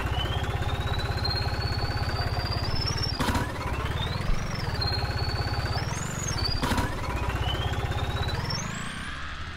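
New Holland 3630 tractor engine in Farming Simulator 19 runs with a loud, steady diesel throb, rising in pitch as it revs and dipping briefly at two gear changes, close and continuous with no talk.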